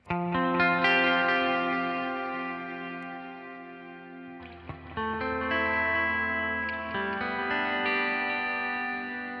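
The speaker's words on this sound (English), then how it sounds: "now let's turn on the Spring Guru with a long 20-second decay" Sustained guitar chords through a Headrush Spring Guru spring reverb set to a 20-second decay, ringing with long, shimmering tails; a new chord enters midway over the lingering wash.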